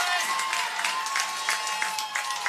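A high school football crowd at the Ozark vs Republic game cheers and claps, a steady wash of applause with rhythmic bursts that sound like repeated clapping, heard from within the stands.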